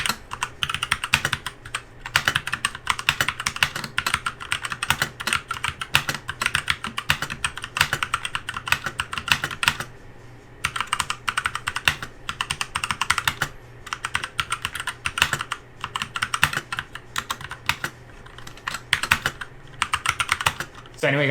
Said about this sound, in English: here's a quick typing test on the Drevo Calibur red switches.